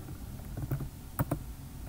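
Keystrokes on a computer keyboard in a Linux terminal, a few soft quick clicks in two small bursts against a low steady hum, faint and close.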